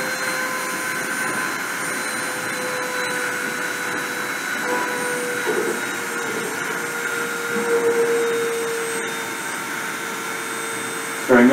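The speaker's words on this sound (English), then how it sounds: "I'm going to start the spindle and start the deposition." A machine spindle whines steadily during a deposition run, a loud, continuous droning hum with faint tonal shifts throughout and a short bump at the very end.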